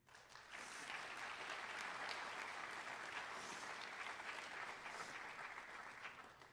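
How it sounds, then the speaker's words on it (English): A steady, full round of applause from the audience at an agricultural program's spring banquet, swelling in quickly and holding a dense, even roar of many hands for several seconds before tapering slightly. "Let's give one huge round of applause to our sponsors."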